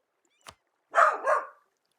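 Dog giving one short, close bark, preceded by a brief click, in otherwise near silence.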